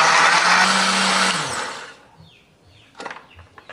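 Kitchen blender grinding chili, turmeric, shallots, garlic, candlenut and ginger with a little water, a loud dense whirring roar for about a second and a half before cutting off, followed by faint clatter.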